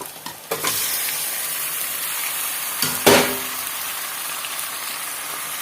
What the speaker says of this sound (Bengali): আগে থেকে যে মাংস আমি নুন এবং হলুদ দিয়ে রেখেছিলাম সেই মাংসটাকে আমি এর মধ্যে দিয়ে দিলাম